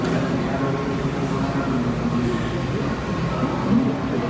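A Washington, DC Metro Orange Line subway train rumbles and rattles steadily at close range, a constant dense roar of rails and carriage noise with faint murmuring beneath it.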